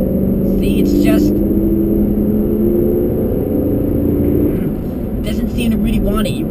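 A 2004 Lincoln Navigator's engine drones and labours under acceleration, a low steady rumble with rising tones from inside the cabin, while a person talks over it.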